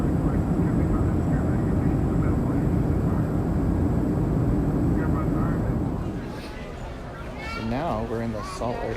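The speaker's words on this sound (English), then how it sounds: "Now we're in the Salt Lake City airport, waiting for our flight to Cincinnati." Busy terminal ambience at Salt Lake City airport, with a steady roar of aircraft and hall noise that eases after a few seconds as people talk nearby.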